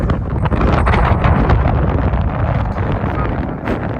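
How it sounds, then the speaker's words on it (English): Strong wind buffets the microphone on a clifftop section of the South West Coast Path in Cornwall, a loud, constant roaring rumble with gusty swells and no clear gaps. "wind's coming from behind me from this direction at the moment"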